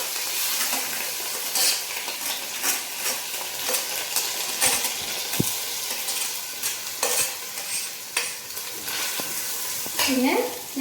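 Washed basmati rice being stirred into onions frying in a pan for ghee rice. Continuous sizzling comes with rhythmic spoon scrapes and occasional clinks against the pan. Close and clear, with no talking.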